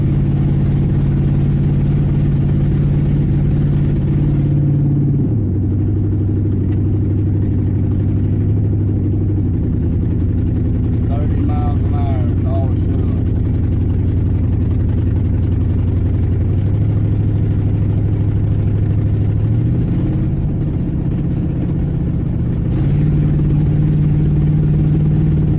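A truck engine labours under throttle, a loud steady low drone that holds one pitch, dips lower for a stretch, then climbs back up, struggling without revving freely.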